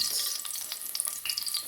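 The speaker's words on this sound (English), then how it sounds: "So all I'm doing is frying the garlic and the pepper in the oil." Garlic and pepper fry in hot oil in a home kitchen, giving a close, steady hiss and crackle with small popping bursts and no talk.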